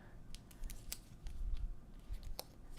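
Scissors snip through a 3 by 4 inch paper journaling card for a beach-themed mini album, a string of short crisp cuts close by, with quiet pauses between them.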